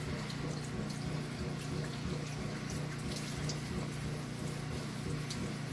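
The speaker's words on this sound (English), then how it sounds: "Get a little bit of water on the head." Water runs and splashes steadily onto a head before a shave, a continuous close gushing with a low pump-like hum beneath it.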